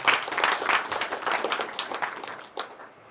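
Audience clapping together at a Christian poetry book launch, a dense burst of applause that stays steady and fairly loud before thinning out and fading near the end.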